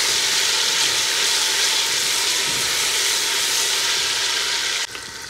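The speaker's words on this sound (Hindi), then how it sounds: "सबसे पहले हम इसमें डाल देंगे अदरक लहसुन का पेस्ट, इसको हल्का सा ब्राउन करेंगे।" Ginger garlic paste browning in a pan for Lahori murgh chanay, giving a loud, steady, dense sizzle with a hissing frying sound that runs continuously, then drops suddenly near the end.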